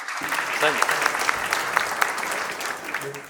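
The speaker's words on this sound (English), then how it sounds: "Ladies and gentlemen, ease his nerves by giving him a big round of applause, please." A big round of audience applause for a nervous contestant at a talent show audition, dense clapping with a few cheers and whistles rising through it.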